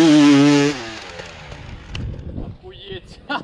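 A motorcycle engine revs hard and close as the rider lets out the clutch to climb a hill, a loud, buzzing roar lasting under a second that then drops away into rumbling, scuffing noise with voices.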